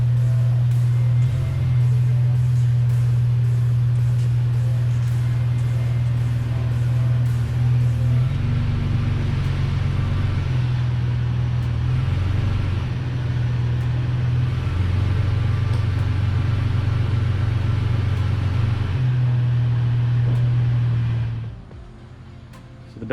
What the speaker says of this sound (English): So I'm gonna back the truck in and see if it works.